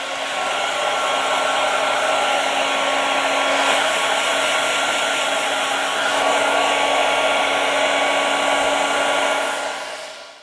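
A hair dryer blows over wet platinum photographic prints, giving a steady, loud, continuous whirring hum that holds evenly for about ten seconds with no voices.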